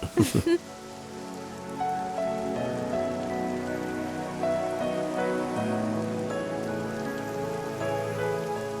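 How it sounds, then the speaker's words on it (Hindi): Rain falls steadily on surfaces in a film scene, a continuous patter beneath music after a brief burst of louder sound at the start. "इस बारिश में तुम्हारे साथ भीगकर मुझे बेहद मजा आ रहा है।"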